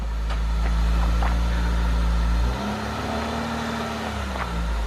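A lowered Honda Civic EJ or EK on coilovers is driven outside, its engine a loud, steady low hum close by that drops slightly midway as the car eases forward, with no talk.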